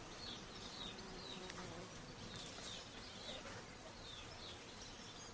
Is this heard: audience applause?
no